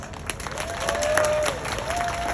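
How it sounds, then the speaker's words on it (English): A crowd at a protest rally against Texas Senate Bill 147 in Houston claps and cheers, a brief burst of applause with scattered voices. "Give us all a big applause."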